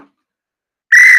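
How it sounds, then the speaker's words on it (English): A whistle gives one short, shrill, steady blast near the end after near silence, close and loud. "I'm just going to go ahead and hold on to this whistle so I don't lose it"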